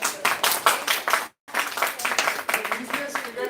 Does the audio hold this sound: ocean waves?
no